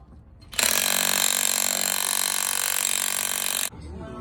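A power tool, likely an impact wrench, zips a bolt off an air suspension bag in one loud continuous burst of about three seconds, close up, with quieter workshop sounds before and after.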